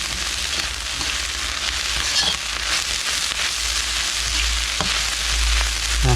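Finely chopped meat is dry-roasted in a little oil in a pan, giving a steady close sizzle with occasional stirring scrapes and crackles and no talk.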